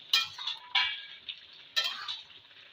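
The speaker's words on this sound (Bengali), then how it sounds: "একবার নেড়ে দেবো" Bottle gourd sour curry stirred with a spoon in a metal cooking pot, giving three close scraping clinks against the sides, each trailing off, with faint bubbling between.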